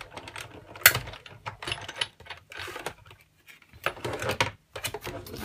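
Die-cutting machine pressing a die through card, a run of uneven mechanical clacks and grinding bursts with short pauses, moderately close and fairly quiet.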